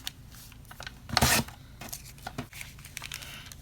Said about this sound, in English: I'm going to make a crease with my finger